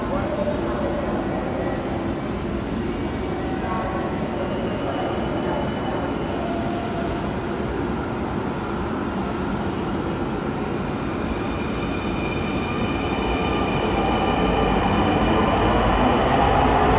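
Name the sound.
metro train at Bijoy Sarani metro rail station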